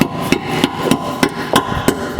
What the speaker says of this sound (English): We'll take a rubber mallet and just tap that